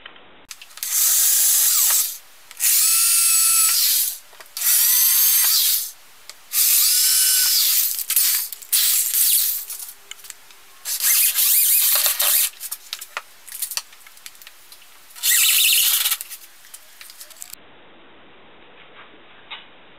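A power drill boring pilot holes through stacked half-inch plywood layers, with about six loud whirring bursts separated by short pauses and ending in quieter clicks and handling noise.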